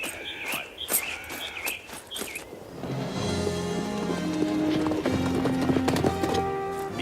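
Horses pulling a wagon in a western film scene, with crisp rhythmic clip-clop hooves up close at first, then giving way to rumbling movement and a swelling musical score.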